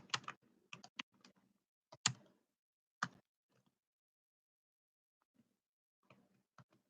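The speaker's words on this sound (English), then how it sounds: "I'm going to type it in again." A computer keyboard clicks in a few quick scattered bursts of keystrokes, faint and close in a quiet room, with long pauses between groups and no voices.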